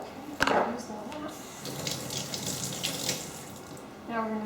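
Water runs from a kitchen tap in a steady stream, starting with a brief splash and carrying on through the clip, while making protein peanut butter cups.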